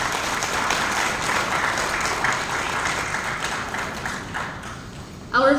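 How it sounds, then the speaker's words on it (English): Audience applause at the first LGBT Tourism Pride Summit in the Philippines, a dense, steady wash of many hands clapping in a large hall that thins slightly before a voice begins speaking at the very end. "Please give them a round of applause."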